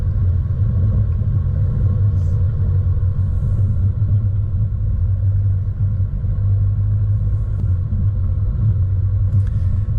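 A car crawls up a rocky off-road climb on the Billy Goats Bluff track, struggling for traction, giving a loud, steady low engine rumble and drone throughout with no talking.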